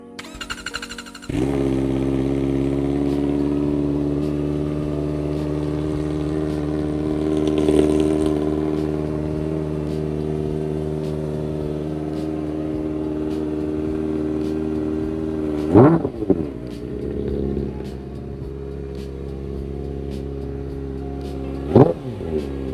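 A Kawasaki Ninja ZX-4RR 400 motorcycle starts and idles close up with a steady buzzing drone, then is revved sharply twice, each rev a quick high-pitched rise and fall before settling back to idle.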